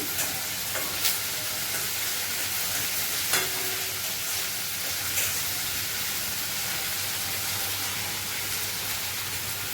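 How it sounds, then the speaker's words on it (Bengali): Ginger-garlic paste frying in a pan makes a continuous hissing sizzle, broken now and then by light scraping taps of a stirring spoon, with no talk. "আদা রসুন পেস্ট দিয়েছি এটা ভালো করে আমি ভেজে নেব এই ভাজছি"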